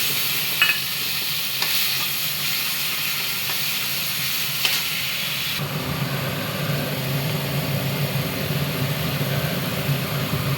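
A paste of tomato, green chili, garlic and ginger hits a hot pan, giving a steady hiss and sizzle of frying that thickens after a stir, with scattered clinks of a utensil.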